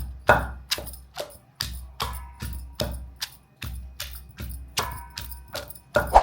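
Green chillies pounded in a small stone mortar, a steady series of about a dozen sharp, close thuds with short pauses between strikes, no voices.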